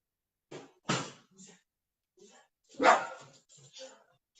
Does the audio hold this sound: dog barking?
yes